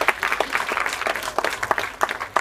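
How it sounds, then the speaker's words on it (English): A summit audience in New Delhi claps for an emcee's call, with sharp, separate handclaps that arrive in an uneven, moderately loud burst, close and clear. "Can we have a round of applause,"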